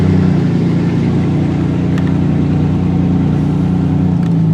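A Ford Ranger pulled from a scrapyard drives a slow lap, its mid-pitched engine humming steadily and close, with a faint whir and a slight rise in revs, no voices over it.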